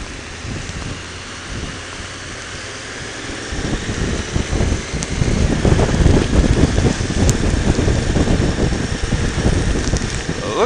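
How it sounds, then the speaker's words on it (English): Heavy rain pelts down during a stormy motorcycle ride, a steady dense hiss that swells louder midway with gusty wind noise, no talking. "Raindrops were stinging my hands pretty good."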